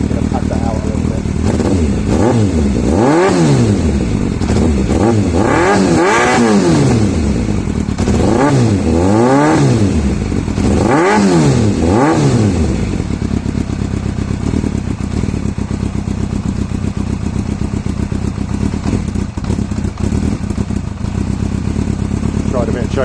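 A motorcycle engine runs with the choke partly on, revving up and down in several repeated bursts before settling into a loud, steady idle, close to the microphone.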